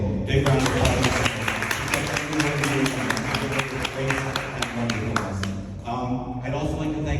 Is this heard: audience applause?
yes